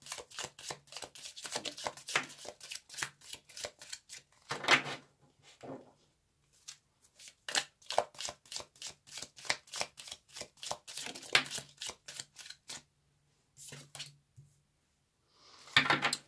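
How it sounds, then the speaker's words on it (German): A deck of stiff cards is shuffled by hand in a series of quick, soft riffling and slapping strokes, close and fairly quiet, with short pauses between bursts. "die Karten lassen sich relativ schwer mischen"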